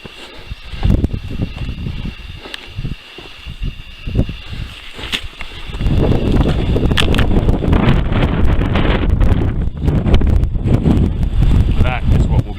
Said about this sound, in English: it's about 50-mile-an-hour winds up there